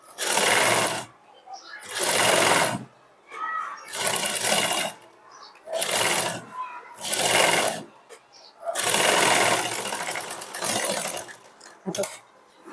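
A sewing machine runs a sleeve seam in repeated bursts of stitching, about six runs separated by short pauses, close and steady, with a pin or fabric handling between runs.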